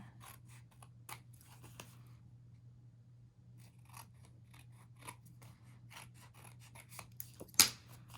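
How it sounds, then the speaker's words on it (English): Scissors trimming a paper card, with soft repeated snips and rubbing of paper over a low steady background hum, one sharper snip near the end. "This card's a little big, so I'm just going to trim it down"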